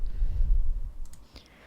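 A computer mouse clicks a few times in quick succession, small, sharp and fairly faint, heard over a low background rumble with no one talking.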